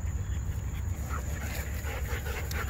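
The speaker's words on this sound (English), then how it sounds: "Oh my god, I'm surrounding with the dogs." Several dogs pant and snuffle close by at a dog park, a steady breathy rasp running through the whole stretch over dense low background noise, with no talk.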